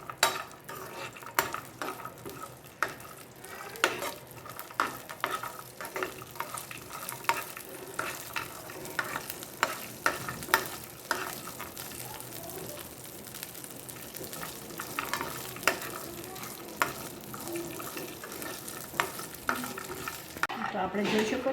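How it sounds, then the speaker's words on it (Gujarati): Dry fruits roast in ghee in a pan, giving a steady low sizzle broken by frequent scraping and clinking stirs of a spoon against metal, heard up close for a long stretch with no talking. "એમાં ડ્રાયફ્રૂટ એડ કરી દઈશું. તો હવે આપણે આને ઘીમાં રોસ્ટ કરી લઈશું એકદમ."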